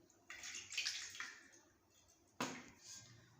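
Warm water poured into a bowl of dough mixture for oven-style bread, a close splashing pour that runs about a second, pauses, then comes again as a short second burst.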